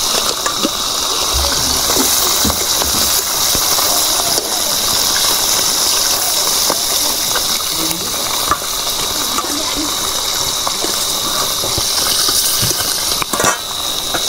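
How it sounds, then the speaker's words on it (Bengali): Pond fish frying in hot oil in a kadai over a village wood-fire stove, a steady loud hiss and sizzle with scattered pops and crackles running throughout, no voices. "মাছগুলোও বেশ ভালো ভাজা হচ্ছে"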